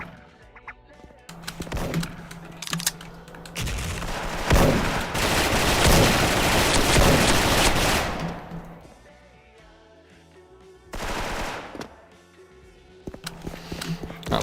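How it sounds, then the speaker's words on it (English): A Nerf gun firing in a video game, a loud continuous rattle of rapid shots for several seconds, with scattered single pops and short bursts before and after, close and prominent. "Nerf gun."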